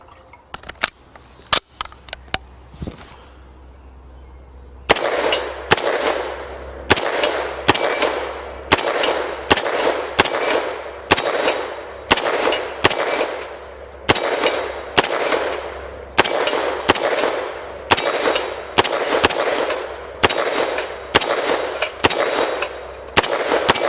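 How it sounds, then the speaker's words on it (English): Rapid gunshots from a 9mm carbine prototype: a few scattered shots, then a fast, steady string of loud, sharp reports with ringing echoes, fired outdoors with no talking. "Let's do a little bit of shooting with it."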